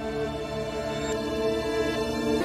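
A sample from a Japanese song plays in reverse, producing smeared, swelling sustained tones over a pulsing low register. It is steady and fairly loud, with no voices.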